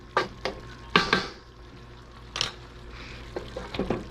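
Mixed vegetables with tofu cooking in a pan: scattered clatters and scrapes of a utensil against the pan over a faint background hiss, with several sharper knocks spread unevenly through the stretch.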